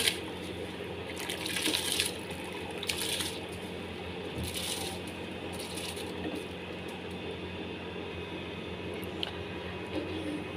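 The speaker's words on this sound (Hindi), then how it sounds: "अब इसमें ऐड करेंगे भिगोए हुए चावल।" Soaked rice being poured into a pot of boiling water for Singaporean rice makes a steady watery rush and splashing, with a bubbling, hissing background throughout.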